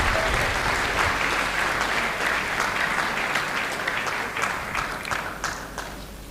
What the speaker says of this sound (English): I think my colleagues would deserve a round of applause.